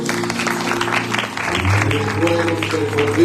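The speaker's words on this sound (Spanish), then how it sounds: "Dale un fuerte aplauso a nuestro Dios." A church congregation claps loudly during a Sunday service, the applause running under sustained music with held instrumental tones.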